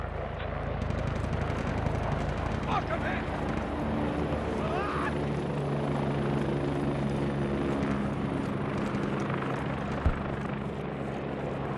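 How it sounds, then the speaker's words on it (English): A helicopter in a 100-player military simulation squad PvP game holds a steady, loud rotor and engine drone for the whole stretch, with faint voices beneath it. "we're actually gonna catch a ride with the helo."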